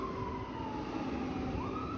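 A passing ambulance siren wailing steadily up and down, loud and close, with the vehicle's engine rumbling underneath, heard on a city street.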